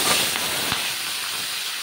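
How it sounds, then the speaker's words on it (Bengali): Spinach drops into hot oil over potatoes and sets off a loud, close hiss of sizzling steam. A single brief knock sounds partway through before the sizzle eases slightly. "আমি পালং শাকটা এবার এর মধ্যে দিয়ে দেবো"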